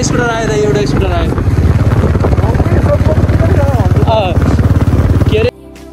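A scooter engine drones loudly on a mountain road, a close, buzzing motor that holds steady and then cuts off abruptly near the end, with brief voices underneath.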